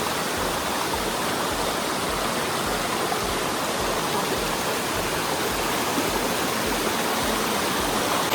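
Water from a hot stream waterfall spills onto a tree and down, a loud, constant broadband rush with no break and no voices.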